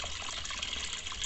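Water being poured into a planter inside a greenhouse, a steady close gush of liquid filling the container throughout, with no talking.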